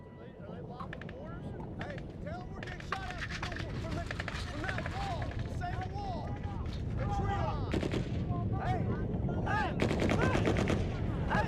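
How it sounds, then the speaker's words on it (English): Gunfire crackles in sharp, irregular bursts during combat in Afghanistan, with rounds striking near a wall, over a constant rush of wind noise. Voices speak at times beneath the shots. "Those rounds are coming on the left side of the wall"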